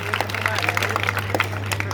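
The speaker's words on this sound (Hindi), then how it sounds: "एक बार उन बच्चों के लिए जोरदार ताली।" A village audience gives loud applause for local children, with scattered, uneven clapping heard over a constant low electrical hum, and several sharper claps standing out from the crowd.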